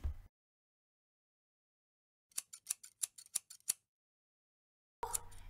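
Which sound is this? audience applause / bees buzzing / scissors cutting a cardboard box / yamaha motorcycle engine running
scissors cutting a cardboard box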